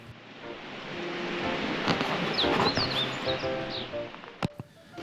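Scattered bird chirps and calls sound over a steady wash of outdoor noise at a mountain hot spring, moderately distant, with a sharp knock near the end.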